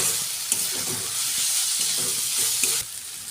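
Mushroom masala seasoned with turmeric and salt sautés in a pan, with a steady broad sizzle and a few light clinks of stirring across a few seconds.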